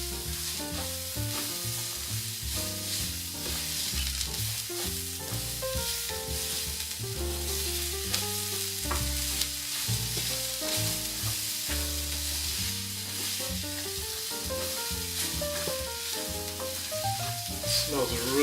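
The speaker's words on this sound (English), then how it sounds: "now I'm going to add in the onions. Half an onion. Let those sweat up a little bit." Half a chopped onion fries in a pan for Mexican Spanish rice, giving a steady sizzle under continuous music, with no talking.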